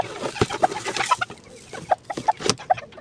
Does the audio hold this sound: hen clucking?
yes